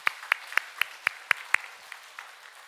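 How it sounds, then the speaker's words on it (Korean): Sparse, distinct hand claps in a church service ring out in a steady rhythm of about seven sharp, fairly faint claps, followed by a few softer scattered ones in a quiet hall. "함께 박수로 여러분들과 또한 여러분들을 또한 많은 사람들을 격려해 주시면 좋겠습니다."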